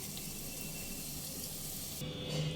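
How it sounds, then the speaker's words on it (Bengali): Black mustard seeds and whole cumin sizzle in hot oil in a pan, a steady close crackling hiss that brightens slightly near the end. "তেল গরম হয়ে এলে দিয়ে দেবো কোয়াটার টিস্পুন কালো সর্ষে আর কোয়াটার টিস্পুন গোটা জিরে"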